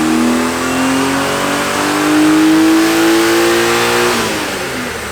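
Tuned car engine on a dyno pulls hard through a continuous rising rev, loud and close, holding near the top before easing off at the end.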